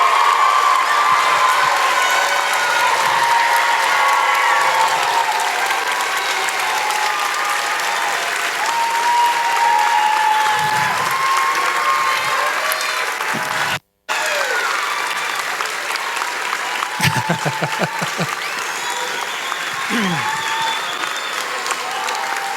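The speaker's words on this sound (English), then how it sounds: "One last round of applause for the class of" An audience at a graduation ceremony claps and cheers loudly for the graduating class, steady applause throughout with scattered shouts and whoops rising near the end.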